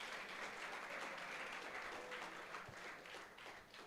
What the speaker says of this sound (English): Give a good round of applause.